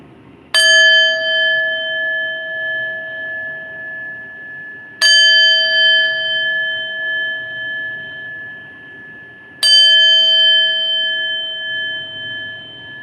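A meditation chime is struck three times, roughly four seconds apart, and each clear metallic ring rings out and fades slowly. No one speaks.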